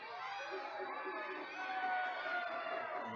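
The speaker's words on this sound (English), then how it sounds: "And the crowd is starting to get loud here." Baseball crowd at a Laredo Lemurs at Wichita Wingnuts game growing loud, a dense roar of cheering and shouting voices that swells slightly in the second half, distant and continuous.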